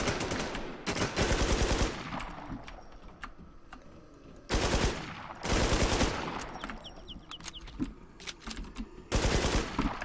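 Mossberg shotgun fire in a first-person shooter video game, heard as loud, close bursts of rapid shots in several clusters separated by brief quieter gaps, with no talking.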